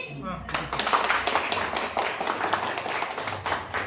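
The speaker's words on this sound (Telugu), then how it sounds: "క్లాప్స్ కొట్టండి మామ" People clap at a Sankranti celebration held by a community association, a close, lively burst of many hands following a short voice at the start.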